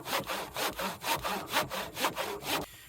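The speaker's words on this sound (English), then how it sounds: "the handy dandy little trick of holding your saw upside down. Because now it's going to follow that kerf on top and bottom" A hand saw, held upside down, cuts wood along a kerf for a well house build, giving about six even back-and-forth rasping strokes, close and loud with no talking.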